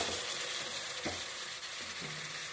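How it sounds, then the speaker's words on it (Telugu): Mutton for a curry sizzles in a pan with a quiet but steady frying hiss and a few brief scrapes or stirs. The sound stays close and no one speaks. "ఇదిగోటండి మటన్ వేగింది"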